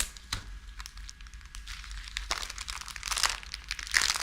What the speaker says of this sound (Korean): 비닐을 다시 한번 고정을 시켜줍니다